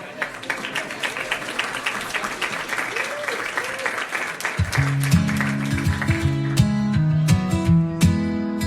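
Crowd applause and cheering for a guest musician, dense and steady for about five seconds before live band music with sustained tones comes in over the tail of the clapping.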